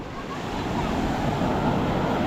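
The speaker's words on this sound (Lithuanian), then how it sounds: "Nukeliaujam, išbandysim Graikijos bangos." Sea surf washes steadily onto a beach at Corfu, Greece, a dense, continuous rush of breaking waves with some wind buffeting the microphone.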